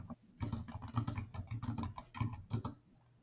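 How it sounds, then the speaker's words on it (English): Fingers tap rapidly on a computer keyboard in an irregular clatter of keystrokes, fairly close but soft, with a pause at the start and the typing trailing off at the end. "I can hear you typing"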